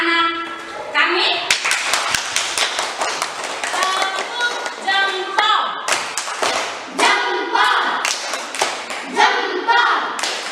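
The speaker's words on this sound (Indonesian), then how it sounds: "kita tepuk tangan untuk anak kami" A small classroom group claps for a child who has just read a text aloud, bursts of clapping and thumps interleaved with children's and adult voices talking over it.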